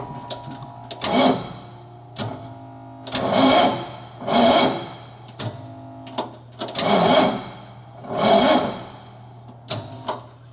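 A Cushman utility vehicle's engine cranking over and over without catching, six or seven loud rhythmic bursts of whirring starter effort separated by short pauses, close by and alone.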